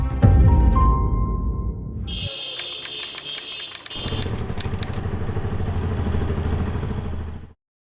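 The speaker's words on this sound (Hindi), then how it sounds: "क्या भाई, कितनी तेज बाइक चलाते हो?" A motorcycle ridden fast roars close by in bursts, with a rattling, clattering engine note that swells and cuts off abruptly near the end.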